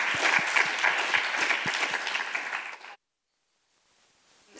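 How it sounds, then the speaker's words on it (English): A round of applause from a gathered audience closing a science and conservation talk, brisk and fairly close for about three seconds, then cut off abruptly into near silence. "So just another round of applause for all of our"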